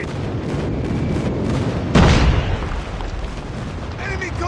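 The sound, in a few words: airstrike explosions in a video game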